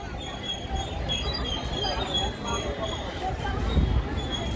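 A Disneyland Resort train pulls in with a steady mechanical rumble and faint whine, heard beneath crowd chatter and nearby talking.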